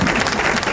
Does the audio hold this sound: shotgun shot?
no